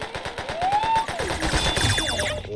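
Rapid automatic gunfire from a weapon in a Roblox randomizer game, a fast, even burst of sharp shots, loud and close, with a rising tonal whine over the first half.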